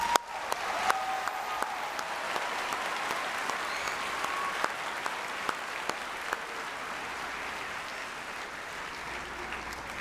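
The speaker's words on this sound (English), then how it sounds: "Please give me a round of applause for the North High staff." A graduation audience applauds the North High School staff, sustained broadband clapping from a large crowd holding steady for about ten seconds with a few sharper claps standing out near the start.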